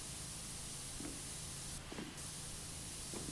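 High-pressure water spraying pipes in the PowerWash Simulator game, a steady broadband hiss running throughout with a brief brighter burst partway through and faint clicks.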